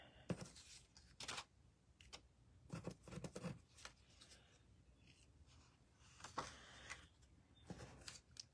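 Scissors snip paper flower shapes for a handmade deckled circle card, giving quiet, close, irregular cutting and rustling sounds with short pauses between them.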